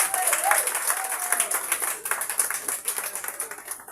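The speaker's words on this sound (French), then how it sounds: "Applaudissez pour eux deux." An audience applauds continuously at an award event for holistic medicine, a dense, steady wash of many hands clapping with faint voices mixed in.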